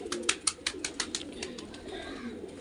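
Pigeons feeding on millet, a quick series of nearby wing flaps and soft coos over a quiet outdoor background.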